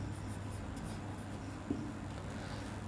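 Soft, steady scratching of writing on paper or a board runs quietly through a math lesson, faint and continuous with one small tap midway.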